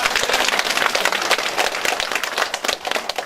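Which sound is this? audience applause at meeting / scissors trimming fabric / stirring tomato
audience applause at meeting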